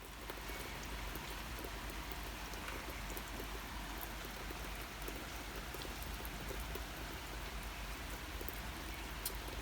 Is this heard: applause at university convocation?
no